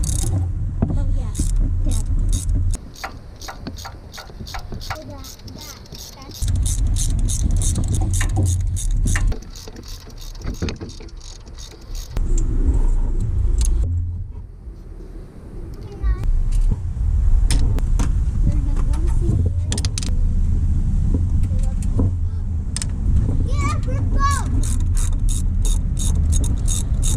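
Ratchet wrench clicking in quick bursts as oil pan bolts are cracked loose on a Honda B-series engine, close and loud over a low engine-bay hum, with pauses between runs.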